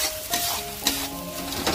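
Pointed gourd (parwal) pieces frying in a pan are stirred with a spatula, giving a steady close sizzle broken by a few scraping strokes, with no talk over it.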